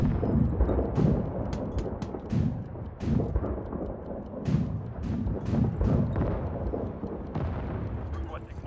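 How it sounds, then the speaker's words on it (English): Booming artillery fire in a military video game, a series of heavy blasts and impacts at irregular intervals, some sharp and near, others rumbling, under ongoing radio-style voice chatter. "Artillery fire incoming."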